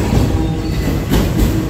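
A Norfolk Southern freight train rolls past at Jeannette, Pennsylvania, with a Southern Pacific car in the consist, a loud, close, steady rumble of wheels with faint rhythmic clacks and no voices.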